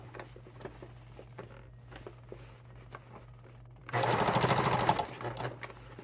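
Sewing machine stitching through thick velvet for a stocking, running in a fast, loud rattling burst of about a second after quieter intermittent taps and a steady hum.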